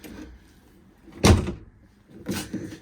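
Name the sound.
Lotus Elan car door opening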